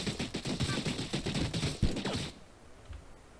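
A rapid burst of automatic gunfire from a weapon in an Unreal Engine 4 shooter game rattles off about a dozen quick shots, then stops, leaving a quiet tail.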